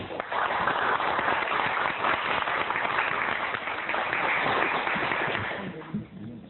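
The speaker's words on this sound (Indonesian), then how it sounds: "Tepuk tangan." Studio audience applause at a 1987 televised school quiz competition, a sustained dense wash of clapping that holds steady and tapers off near the end, dull and band-limited as on an old broadcast recording.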